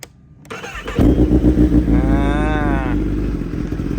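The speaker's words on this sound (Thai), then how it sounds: "ฟังเสียงท่อก่อนเนาะ ถ้าเปิดกุญแจ ZX10 นะครับ ดันดันอย่างนี้หน่อยนึงนะดันปุ๊บแล้วก็เปิด กดสตาร์ทตรงนี้นะครับ" A 2016 Kawasaki ZX10R motorcycle with 36,000 km, freshly valve-adjusted, cranks briefly after a quiet moment, then catches and settles into a loud, steady, throaty exhaust idle close by.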